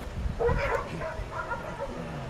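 Dog barking and yipping in a few short, fairly close bursts with whimpering tones, heard under and between people talking.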